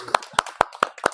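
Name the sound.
group clapping after a meditation session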